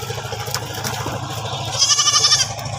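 Goats bleat in a rural waterside setting after being bathed in hot weather, a wavering cry rising near the end over a steady low engine hum and background noise.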